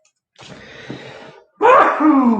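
A single loud sneeze up close: a breathy build-up, a brief pause, then a sharp voiced burst.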